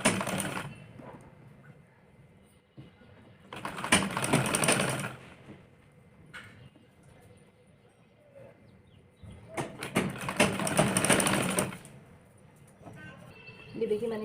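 Sewing machine stitching a princess-cut belt blouse indoors, running in two bursts of steady whirring separated by quieter handling sounds and brief speech.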